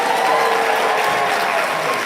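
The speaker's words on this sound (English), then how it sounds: "Come on, give them a strong round of applause." Strong audience applause at a Giwayen Mata Kwanzaa show, a loud, dense, continuous wash of many hands clapping at close range.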